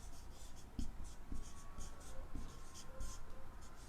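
Marker or chalk strokes on a board during a logic gate lesson, a steady scratchy rubbing with short taps at each new stroke, close and fairly quiet, with no talking.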